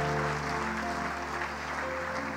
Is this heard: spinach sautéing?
no